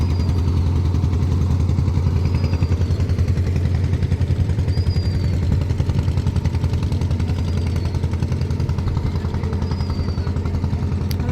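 Boat engine carrying passengers and goods across the Bidyadhari river to a ferry ghat: a steady, close, low mechanical chugging that runs unbroken throughout, with faint high chirps drifting over it.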